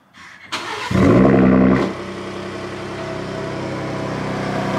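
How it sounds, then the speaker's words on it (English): A 2021 Ford F-150 Raptor cranks and fires on a cold start, surging into a loud, brief rev before settling into a steady, rumbling high idle that builds slightly. "Cold start on the new Raptor."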